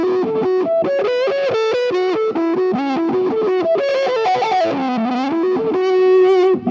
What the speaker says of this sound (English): the wah pedal, it's inside the fractal, but it's actually two different wah pedals, and each affects the other side differently